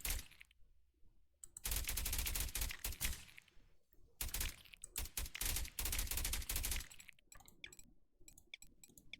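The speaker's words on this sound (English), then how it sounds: "And if the gunfire is too annoying, too loud, let me know." Rapid automatic gunfire in the video game Deep Among the Swarm in long sustained bursts separated by short gaps, with scattered clicks and single shots between the volleys.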